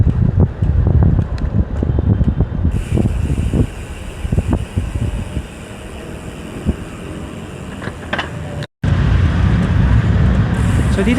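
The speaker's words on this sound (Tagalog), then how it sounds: "Sarap ng hangin." Riding a motorcycle brings steady wind buffeting across the microphone, mixed with road and traffic rumble and occasional bumps. A brief dropout occurs near the end before the wind noise resumes.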